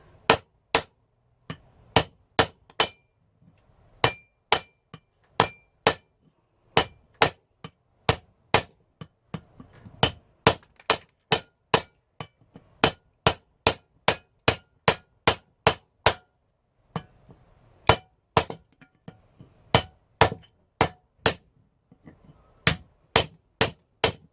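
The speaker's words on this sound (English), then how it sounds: "all you do is just smack it on there. Again, use a bigger hammer" Hard hammer blows clank against a metal transformer on a concrete floor over and over, sharp strikes in quick runs separated by short pauses, close and loud with no talking.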